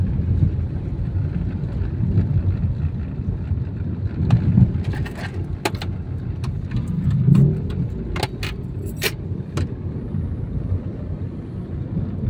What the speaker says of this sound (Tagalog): Ayun mga sasakyan, no?